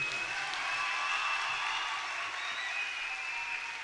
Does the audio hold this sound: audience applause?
yes